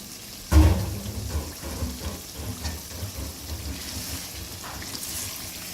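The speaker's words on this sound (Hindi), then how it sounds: "और फिर इसमें हम पानी ऐड कर दें।" A loud splash of water hits hot frying masala in a pan, followed by a steady sizzling, bubbling hiss that continues without talk.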